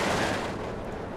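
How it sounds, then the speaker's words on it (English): Heavy artillery fire in the World War II strategy game Steel Division II, set in a Finland campaign, comes as a loud rumbling blast with a decaying roar over a brief moment. "Wow, they've definitely got that heavy artillery."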